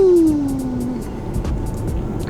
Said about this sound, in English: Sounds beautiful. Beautiful, that engine.